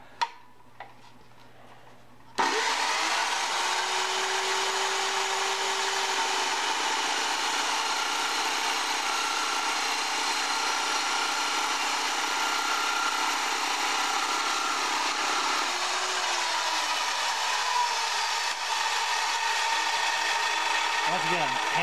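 A Jepson dry cut saw slices through square steel stock with a steady, loud high-pitched whine, the blade starting up after a brief quiet moment and grinding on continuously until the cut finishes.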